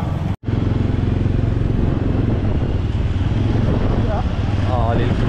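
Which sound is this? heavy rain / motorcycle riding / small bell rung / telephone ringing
motorcycle riding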